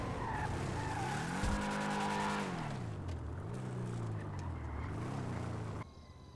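A car in GTA roleplay revving and skidding, with the engine pitch rising, dipping and climbing again over sustained tire squeal, loud and continuous before cutting off abruptly near the end.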